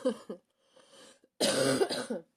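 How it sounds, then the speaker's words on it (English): Several harsh coughs, close to the mic: two short ones, a softer rasp, then a longer loud burst of coughing and throat noise. "I made it so long without coughing"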